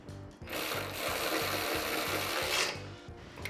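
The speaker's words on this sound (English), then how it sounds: "So we're going to go ahead and tighten all these bolts now with a 17mm socket on this mounting bracket." A 17mm socket ratchet tightens mounting bracket bolts for bolt-on rock sliders on a 2024 Lexus GX 550, a rapid clicking pawl buzzing in repeated short bursts, close and fairly quiet.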